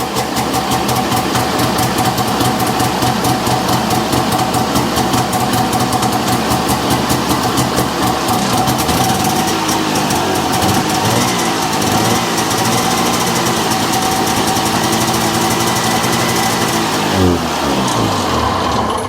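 The two-stroke engine of an Arctic Cat Jag 440 snowmobile, revived after sitting unused for years, runs steadily and loudly up close with a rough, rapid pulsing idle and slight changes in pitch toward the end.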